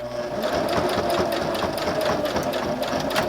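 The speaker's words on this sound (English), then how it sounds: "we're going to cross over this stitching and back stitch a little bit to secure our stitching" A sewing machine back stitches across a fabric bookmark, its rapid even needle clatter running continuously and close throughout.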